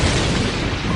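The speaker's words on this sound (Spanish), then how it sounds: "Algunas estrellas al morir producen una explosión supernova." A deep, booming explosion representing a dying star's supernova, a dense sustained roar with heavy low rumble filling the whole second without breaks.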